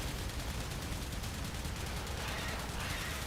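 Sustained rapid gunfire in a shooter game, a dense, constant noisy barrage of shots at steady level with no clear gaps, heard fairly faintly throughout.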